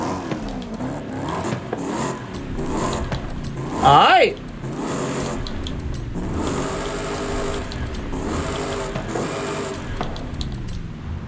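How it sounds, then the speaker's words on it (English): A Cadillac CTS-V Wagon with manual transmission and aftermarket exhaust in the racing game Forza Horizon 5 revs and accelerates with a steady mid-pitched engine drone and rising gear pulls, one sharp louder surge midway, while someone talks over it. "how does this thing sound like with an exhaust?"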